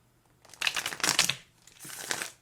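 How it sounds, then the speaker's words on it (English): Thoth tarot cards shuffled vigorously by hand, with rapid papery riffling bursts in two clustered rounds, close and fairly quiet with no talking. "I'm shuffling hardcore so we can really get some stuff going here"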